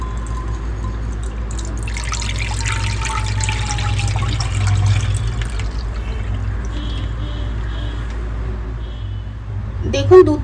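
A litre of full-fat milk is poured into a kadai, a deep cooking pan. A splashing pour rises for a few seconds over a low background hum, then quiets, with a faint bump at the end.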